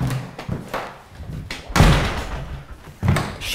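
A door slams shut with a heavy, close thud, followed by another dull knock and light handling noise in a renovated studio and workshop.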